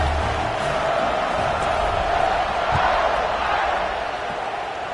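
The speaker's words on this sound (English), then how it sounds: "this crowd is buzzing after that last score" Stadium crowd buzzing in the College Football 26 video game, a steady, loud wash of massed voices and cheering that continues throughout with a broadcast commentator's voice faintly mixed in.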